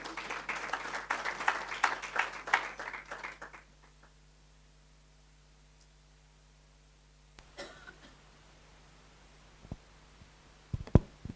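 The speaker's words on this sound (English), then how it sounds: "As we welcome her, we can also give applause." Audience applause welcoming a presenter to a high-level policy session on unpaid care work in Rwanda: a dense burst of clapping for about three and a half seconds, then quiet, with a few scattered claps and knocks later.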